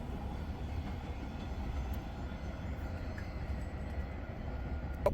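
A CSX freight train passing, a continuous low rumble and drone holding steady at moderate distance, with a faint click at the end, no talk.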